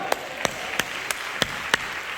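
Sparse, slow hand claps ring out in a church congregation during a sermon. There are about six separate sharp claps at a steady pace against a faint background.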